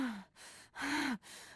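Huntress, the killer in Dead by Daylight, breathing heavily: two long, loud breaths with a rising-falling voiced tone, separated by short gaps, each followed by a softer exhale-like hiss, no talk.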